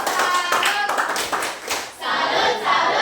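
Students in a physics classroom perform a rhythmic salute clap, sharp group claps in short patterned bursts with a brief pause in the middle, with voices chanting along between the claps.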